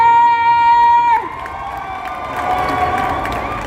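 A convention crowd at a Calgary game con cheers and applauds as actor Oded Fehr takes the stage, loud and full at first, then dropping to a softer, continuing roar with scattered shouts.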